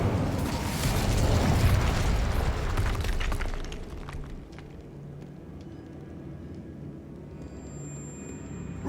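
The Incendio fire spell in the Hogwarts Legacy video game erupts as a loud roaring whoosh of flame that crackles and then tapers off into a quieter low rumble.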